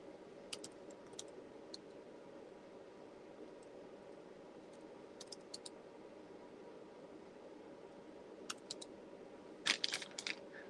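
Someone types on a computer keyboard, with sparse, irregular clicks in short bursts over a steady low background hiss, ending in a quicker cluster of keystrokes, fairly quiet and close.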